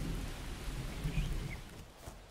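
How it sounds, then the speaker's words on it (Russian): Steady rain hisses over open ground in the survival game Miscreated, with low rumbling beneath and the downpour constant and close throughout, no voices. "к городу подходим, и дождь заканчивается"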